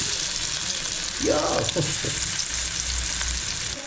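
Prawns sizzle and crackle steadily in hot oil, a dense frying hiss that swells louder partway through, with brief clatters from stirring.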